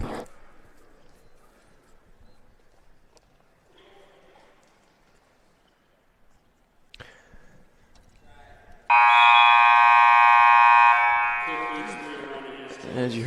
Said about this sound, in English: As you heard by the buzzer, that'll do it for the first period